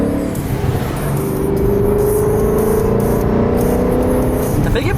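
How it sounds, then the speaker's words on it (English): A supercharged Ford Mustang engine with a new exhaust rumbles steadily, then revs up with a rising exhaust note, loud and close throughout. "So we're about to see what this new exhaust sounds like."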